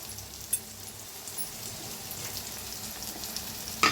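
Turmeric, red chili powder and ground coriander roast with tomato in a pan, making a low, steady sizzle with an occasional soft clink or stir, heard close up.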